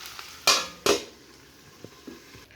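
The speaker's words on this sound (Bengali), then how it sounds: "এবার আমি আলুগুলো দিয়ে দেব। আলুটা দিয়ে কষিয়ে নেব।" Cubed potatoes frying with mutton keema in a hot pan give two loud, close sizzling bursts as they are stirred, followed by a lower crackle and a few soft clinks of a utensil against the pan.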